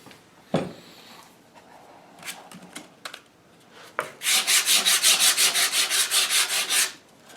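Walnut gunstock for an HW80 air rifle is hand-sanded with tightly rolled belt sandpaper. After a few scattered knocks, about a dozen rhythmic back-and-forth rasping strokes come close and loud, with no talking.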